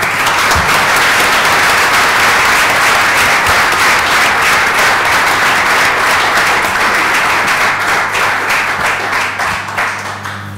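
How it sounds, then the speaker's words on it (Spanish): A large audience claps loudly and densely at the close of a talk on a football club's psychologist, a sustained ovation that slowly thins near the end, with no voices over it. "pues entonces un fuerte aplauso,"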